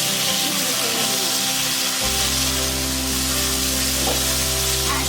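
Chicken pieces seasoned with soy sauce, pepper and ginger-garlic paste frying in a hot pan, giving a steady loud sizzle with occasional stirring and a low hum joining partway.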